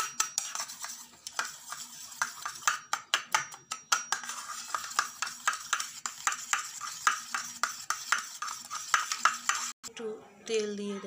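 Turmeric and spices being stirred in a wok-like pan, a steady series of sharp spatula scrapes and clinks against metal over a faint sizzle, with a brief voice at the very end.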